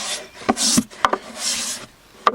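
Scrubbing a wooden hedgehog house during a spring clean, heard as a few short, close brushing and rasping strokes against wood, loud and uneven, with no voices.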